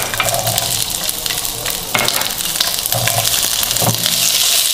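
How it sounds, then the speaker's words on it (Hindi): Vegetables stir-fried in about a teaspoon of oil in a pan over an open flame, a steady loud sizzle broken by repeated scraping stirs, close and continuous with no talking. "फ्राई करेंगे, स्टिर फ्राई करेंगे।"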